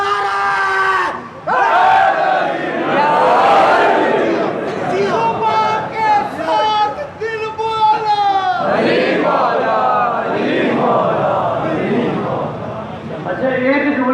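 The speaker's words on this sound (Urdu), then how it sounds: "تو وہ مل کے دونوں ہاتھ بلند کر کے پوری طاقت سے نعرے کا جواب دے گا" A large congregation at a Muharram majlis in Lahore shouts a slogan response at full strength, a loud massed roar of many voices rising in waves over several seconds, alone without a lead speaker.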